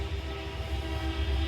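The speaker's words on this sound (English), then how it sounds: "It's a freight train of some kind." A BNSF freight train passing in Mount Vernon, Washington: a loud, steady rumble with a low drone and sustained tonal whine, close by and continuous over a brief moment with no talk.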